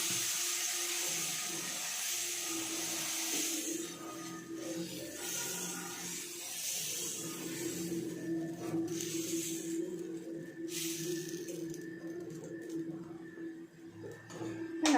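Fenugreek dosa batter, two ladlefuls, hits a hot pan and sizzles in a steady broad hiss that stays close and fairly loud for the whole stretch, with faint clinks and kitchen noise underneath.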